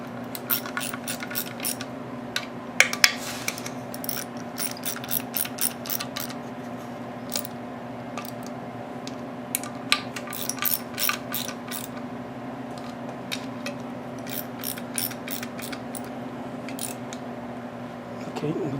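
An Armstrong ratchet wrench works on a seized Briggs lever engine under restoration, giving steady series of quick ratcheting clicks in bursts, close up, over a low motor hum with occasional sharper metal knocks.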